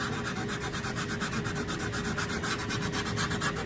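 A scraper dragged steadily across cured epoxy on the side of a Takamine acoustic guitar, giving a close, continuous rasping with a quick regular back-and-forth pulse throughout.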